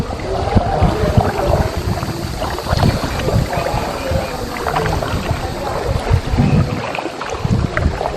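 A boat moves through a sea cave near James Bond Island, Phuket, with continuous water churning and engine-like rumble, loud and close throughout, buffeted by wind noise on the microphone.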